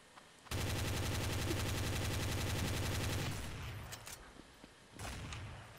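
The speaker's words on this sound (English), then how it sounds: "Oh, I'm hearing gunfire." Rapid, sustained automatic gunfire in Counter-Strike: Source, loud and dense for about three seconds, then dropping to scattered shots and quieter game sounds.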